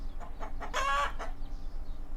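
A chicken clucks in a short, close burst of squawking calls, fairly quiet against a still background with no talking.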